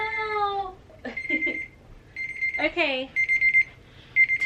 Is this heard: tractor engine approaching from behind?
no